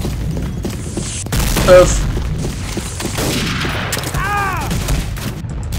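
Grenade explosions and gunfire in the World War II shooter Day of Defeat, a loud thump near the middle within continuous battle noise, with a man's brief exclamation over it.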